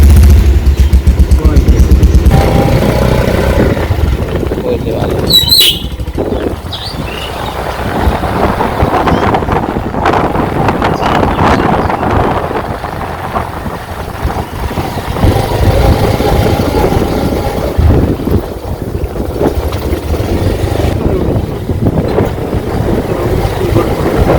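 A motorcycle rides along a village road past a hospital, its engine droning steadily and close under heavy wind buffeting, with people talking over the ride.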